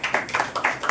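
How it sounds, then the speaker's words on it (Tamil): An audience at a Tamil devotional talk claps hands, a short burst of several quick, sharp claps in an uneven rhythm, fairly close and with no voices over them. "கைத்தட்டுங்க"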